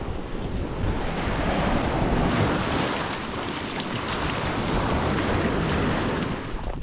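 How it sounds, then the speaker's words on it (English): Waves wash and break at the edge of a bay on the Sardinian coast, a continuous rushing surf mixed with heavy wind buffeting the microphone, no voices. "so I may as well be in the edge of the sea"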